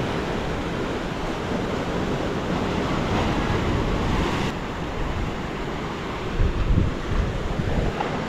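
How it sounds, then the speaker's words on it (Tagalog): Large ocean waves surge near a seaside cave at Dipaculao, Aurora, a loud continuous roar of surf mixed with heavy wind buffeting the microphone, with a stronger crash near the end. "Kasi lalaki ng alon."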